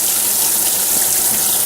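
Tap water running into a sink while hands are wet and washed with dish soap before washing fruits and vegetables, a loud steady close-up splashing flow without talk.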